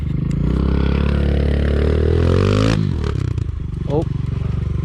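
A pit bike engine revs loudly and steadily while riding at a construction site, then drops off abruptly into clattering and scraping with another short rev near the end, with a voice talking over it.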